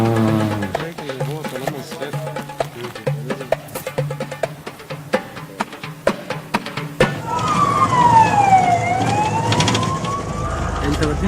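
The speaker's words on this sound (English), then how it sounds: "So many ambulances are going to just pick up" Ambulance sirens wail in a busy street near Tahrir Square, a rising and falling tone coming in halfway through amid traffic noise and people talking.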